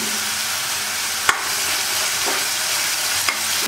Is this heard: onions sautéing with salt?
yes